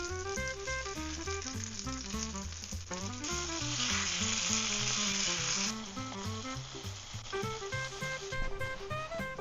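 Folded shrimp tacos frying in a pan with shrimp oil and butter, giving a continuous bright sizzle that surges louder for a few seconds over steady background music.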